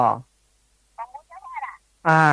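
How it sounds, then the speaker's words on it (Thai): An incoming telephone call rings during a live radio dharma talk, with short warbling electronic ring tones in the pause between a man's speech at the start and end. "พอดีมีโทรศัพท์เข้ามา"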